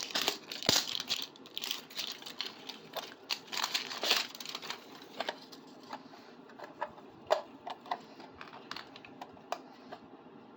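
Plastic packaging peeled and crumpled during the unboxing of a Pokémon figure, giving dense close crinkles and sharp crackling bursts that come and go in irregular clusters.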